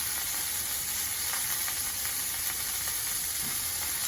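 Chicken curry sauce with ginger, garlic, curry powder, pepper and thyme frying in a pan, giving a steady close sizzle and hiss with faint stirring scrapes throughout.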